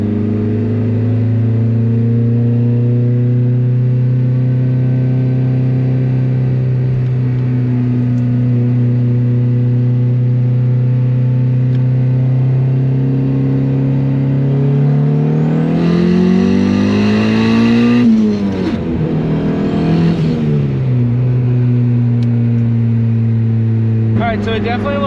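Turbocharged Honda Civic engine held at a steady, loud idle-like drone, then revving upward around the middle and dropping back, with a second brief rise before settling; close and continuous throughout.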